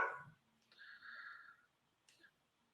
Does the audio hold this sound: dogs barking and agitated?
yes